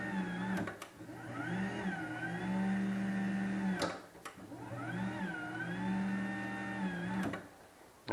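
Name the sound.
LiftMaster/Chamberlain garage door opener running with SPEEDGEAR X2 overdrive gear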